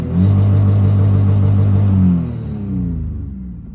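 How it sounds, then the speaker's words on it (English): A Camaro engine is revved hard and held at a steady, loud high pitch for about two seconds, then drops back and settles into a fading idle rumble. "And now I'll give it some revs"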